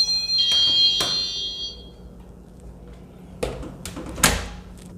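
A home back-door alarm gives a short, shrill electronic beep, followed by a door opening and closing with a couple of sharp thumps, all heard close in a quiet room.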